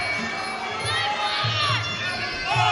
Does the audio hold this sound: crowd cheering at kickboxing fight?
yes